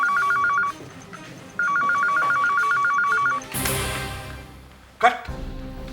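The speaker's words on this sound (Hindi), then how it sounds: "ये लेकिन बेल तो बज रही है।" A telephone in a doctor's room rings with a close electronic warble in two bursts separated by a short gap. Rustling, movement noise and a sharp knock follow, with people talking.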